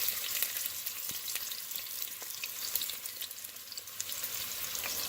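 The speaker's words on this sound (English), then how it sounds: "I have added those sliced onions to the warmed oil and just cooking it down until it turns golden brown" Sliced onions fry in warmed oil, a soft, even sizzle with faint crackles and small pops, fairly quiet and steady, no voices.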